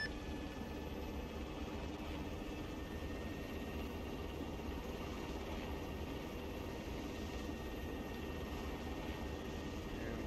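Aircraft engine in ArmA III running at full power on the active runway, a steady, continuous drone with a faint whine held evenly throughout, fairly quiet and with no voices.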